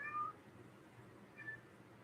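A cat named Mercury meows twice, a clear drawn-out cry followed by a shorter, fainter one about a second later, in a quiet room.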